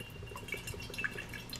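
Soft trickling and dripping of hydrogen peroxide poured out for homemade toothpaste, faint and close, with small splashes and drips across the short stretch and no talk.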